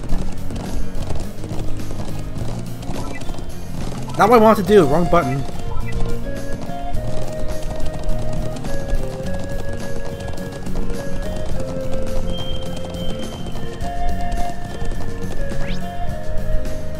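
A horse gallops in the video game Trails of Cold Steel, the hooves clip-clopping steadily under game music while a person talks over the play.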